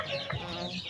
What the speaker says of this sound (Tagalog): Dari na po yung mga gagmay na mga manok ko. Bagong tubo.